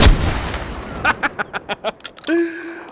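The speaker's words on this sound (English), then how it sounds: "I love this shotgun so much" A shotgun fires in the H3VR virtual reality game with a loud blast, then a quick run of about eight sharp pops or shell clicks and a ringing metallic tone at the end.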